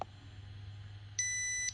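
A short, high electronic beep from an M4A1 JCAD chemical detector, its malfunction warning, chirps once over a low background hum.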